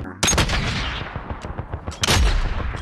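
Gunfire in Call of Duty Warzone, a sharp loud shot followed by a rattle of rapid smaller shots, then another heavy blast near the end, close and punchy.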